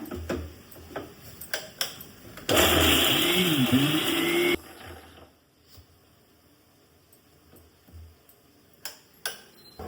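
A kitchen mixer grinder grinds coconut in a loud, steady whirring burst of about two seconds, set among quiet clicks and taps before and after.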